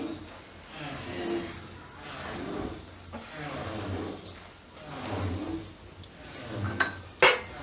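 A spoon stirs red chili powder into a pan, making repeated scraping strokes and light metallic clinks in an irregular rhythm, ending with a sharp clank.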